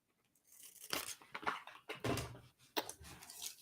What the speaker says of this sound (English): I'm going to take this and just unpeel it